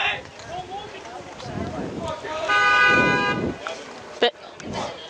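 A car horn honks once for about a second near the stands at a high school varsity baseball game. It is a loud, steady blast over crowd murmur and nearby talking.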